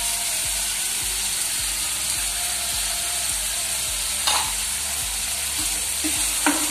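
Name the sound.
green chillies being stirred and fried in a pan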